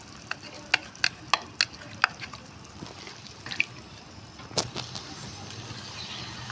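Ginger garlic paste hits hot cooking oil in a pan for chicken karahi, giving a soft, faint sizzle broken by a handful of sharp clicks from stirring and scraping, close up with no talking.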